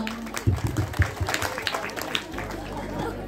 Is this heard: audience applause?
yes